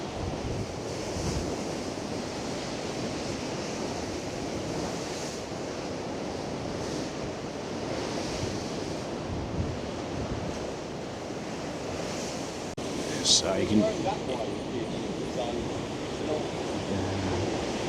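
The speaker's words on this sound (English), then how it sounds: "you see the waves just coming over ever slightly, and the water is just coming over those like little holes in the go-kart track" Strong 60 mph winds and high-tide waves crash against the Blackpool sea wall on a winter day, a constant roar of surf and wind buffeting the microphone, with a brief louder surge near the end and a few spoken words.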